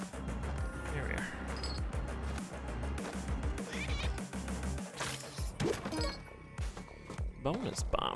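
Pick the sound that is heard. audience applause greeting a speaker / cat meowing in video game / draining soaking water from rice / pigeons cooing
cat meowing in video game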